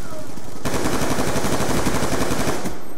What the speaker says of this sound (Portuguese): Tem alguém me atirando aqui.